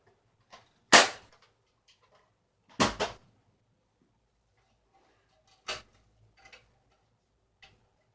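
A Nerf First Order Stormtrooper toy blaster is loaded and fired, giving a few sharp, close plastic clicks and pops spaced a second or more apart, with faint small clicks in between and near silence around them.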